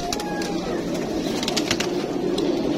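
Highflyer pigeons in a crowded loft in Lahore keep up soft, overlapping cooing and faint wing and cage noises in a steady close chorus.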